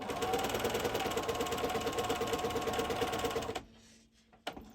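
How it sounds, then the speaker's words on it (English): A sewing machine with a free motion foot stitches zigzag over bobbin thread, running loud and steady with a fast rhythmic clatter for several seconds, then stopping abruptly, followed by a brief clunk. "put the machine on zigzag, and I'm just going to start stitching"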